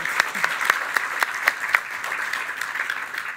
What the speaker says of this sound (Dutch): Mag ik nog een hartelijk applaus voor Dr.